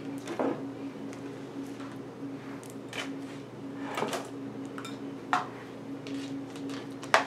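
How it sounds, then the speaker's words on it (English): A knife chops green onion on a cutting board in a kitchen, giving a few scattered, sharp taps at irregular intervals over a steady low background hum. "So I'm gonna go ahead and just chop up my green onion."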